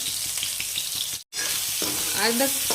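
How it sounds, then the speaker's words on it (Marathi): Grated ginger frying with onion in a pan gives a continuous close sizzle with a brief dropout midway, then stirring and light scraping noises. "अद्रक खिसून झाली की आपल्याला ती व्यवस्थित तळून घ्यायची"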